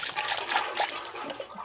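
Long life coolant poured into a Ford F350 truck swapped with a CAT 3126 diesel engine, a steady close liquid trickle and gurgle lasting under two seconds, with no talking.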